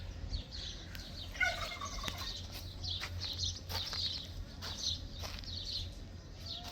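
Turkeys on a farm give a series of rapid gobbling bursts, fairly faint and somewhat distant, over a low steady background hum.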